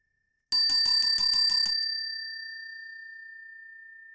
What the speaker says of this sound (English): It's the time to ring my lovely feng shui bell.